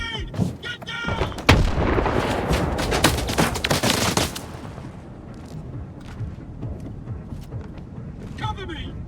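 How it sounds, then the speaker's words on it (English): Loud gunfire and a grenade blast rattle through a S.T.A.L.K.E.R. 2 firefight, with dense bursts of shots in the first seconds giving way to scattered, quieter fire and voices. "Grenade! Get down!"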